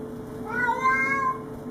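A territorial cat growls and yowls at an intruder cat, a low sustained warbling caterwaul that swells and fades, close by against a steady background hum.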